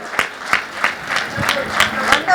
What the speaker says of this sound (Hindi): जोरदार बजाइए तालियां